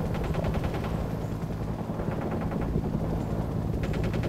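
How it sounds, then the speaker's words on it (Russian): Gunfire in the Cold War strategy game World in Conflict: Soviet Assault, a dense, continuous battle din of rapid machine-gun bursts and scattered shots with a rumbling low background, loud throughout. "По нам открыли огонь."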